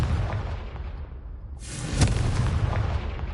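A Confringo blasting spell explodes in Hogwarts Legacy, a sudden sharp burst that rises over a steady rumble of game ambience and then trails off into a noisy wash.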